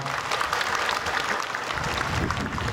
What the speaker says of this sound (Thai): ขอเสียงปรบมือเพื่อเป็นเกียรติให้กับท่านด้วยนะครับ